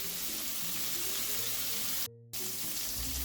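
Salisbury steak patties frying in a skillet, a steady close sizzle that drops out briefly partway through and then resumes, with no voices.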